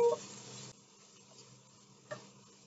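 Garlic, ginger and star anise sizzle in a hot pan, a brief loud crackle easing into a softer steady frying hiss, with a light stir or tap near the end.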